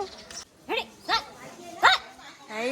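A dog yelps and barks in several short, bright bursts spaced about a second apart, fairly close, outdoors on a lively pre-wedding haldi day.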